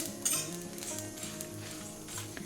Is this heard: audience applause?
no